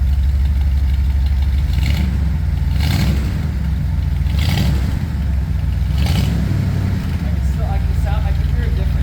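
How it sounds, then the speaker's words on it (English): A Ford F100 pickup engine with shortened glass pack exhausts runs loud and close, rumbling steadily with several throttle blips rising and falling, while people talk over it. "Give it a good rev."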